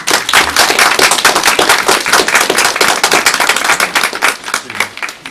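An audience at a planning meeting clapping loudly, a dense run of rapid, close claps that continues steadily throughout.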